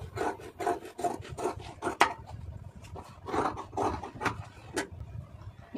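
Scissors cut blouse fabric along a marked line with repeated rasping snips and rubbing strokes, close and moderately loud, with no voices.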